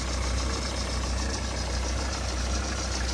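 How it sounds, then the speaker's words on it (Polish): An old Mercedes car engine idles steadily with a low, even rumble and a faint regular pulsing, heard close and constant throughout with no voices. "silnik chodzi"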